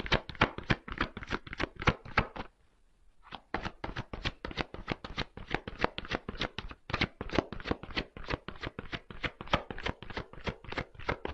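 Tarot cards shuffled briskly by hand, a dense run of sharp riffling flicks with a short pause before the quick, steady snapping resumes, close and fairly loud with no talking.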